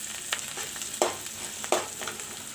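Onions and curry leaves fry steadily in a pan for a chicken curry, a continuous close sizzle with a few sharp stirring scrapes, no voices.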